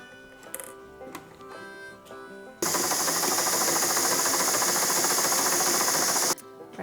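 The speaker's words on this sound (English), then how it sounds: "I'm just gonna sew along that edge" A sewing machine stitches along the edge of pinwheel quilt block pieces after some quiet handling of fabric, then runs in one steady, fast, buzzing whir for about four seconds before stopping abruptly.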